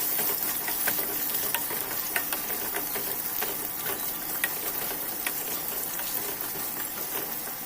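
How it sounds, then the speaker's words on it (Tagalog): Carrots pan-fry in hot oil with a steady crackling sizzle, close and continuous, broken by small clicks and scrapes of stirring. "ipan-fry lang muna natin itong ating gulay, ating carrot"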